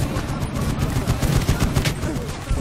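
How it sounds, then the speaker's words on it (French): Rapid, dense bursts of gunfire fill a battle in the video game Medal of Honor, a continuous loud crackle of overlapping shots with no talking. "Ça tire à 11h."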